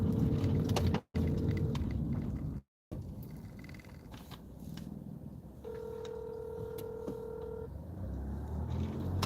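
Phone dialing tones from a call placed while driving through Orlando, a short tone early, then a longer steady tone in the second half, heard over low car rumble with no talk.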